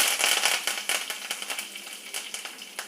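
Curry leaves dropped into hot oil with mustard seeds and urad dal crackle and spit, a close, dense spatter of sharp pops that slowly thins out, with no talking.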